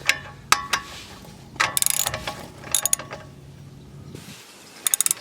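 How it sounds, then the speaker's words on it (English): Ratchet bar tightening a trailing arm bolt on a Volvo XC70, giving bursts of close, sharp metallic clicking separated by pauses and faint background hum. "I have used my bar here to tighten down the bottom one very tight"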